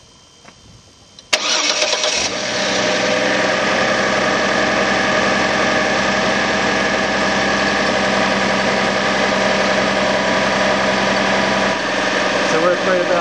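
A Chevy Trailblazer inline-six engine cranks and catches after a moment, then settles into a steady, loud idle that hums on without change.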